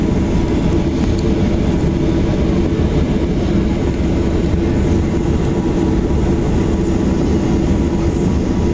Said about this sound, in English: Check this out. Plane's about to come in.